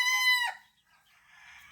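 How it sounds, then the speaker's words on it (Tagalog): A rooster crows loudly and close by in a strong harmonic call lasting about half a second, followed by softer, fainter clucking from the fowl. "Ito. Tandang."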